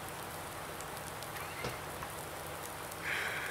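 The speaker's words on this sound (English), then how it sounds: "The whole day is raining." Steady rain falling on an Irish farm, a dense continuous hiss of drops on surfaces, with a brief louder patter toward the end.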